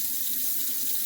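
Water poured from a cup into the clean-water tank of a Bissell Crosswave floor cleaner, a steady close trickling splash with a bright hiss, alone without talk.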